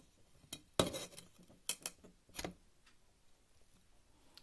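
A few light clinks and clatters of ceramic dishware as a plate covers marinating eggplants, one sharper knock followed by softer taps, close by with quiet pauses between.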